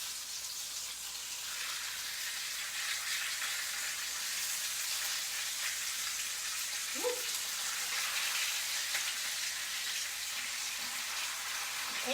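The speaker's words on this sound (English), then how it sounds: "We want a good sizzle from our chicken." Steady broadband sizzle of chicken thighs frying skin-side in a hot pan, continuous and fairly close, with a couple of faint clinks partway through.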